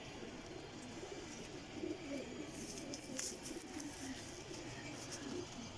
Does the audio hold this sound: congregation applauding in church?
no